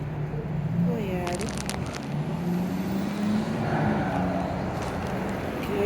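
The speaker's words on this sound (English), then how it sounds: "big scary car" A car passes by outdoors near a pet supply store, a low engine rumble swelling and fading over steady background noise.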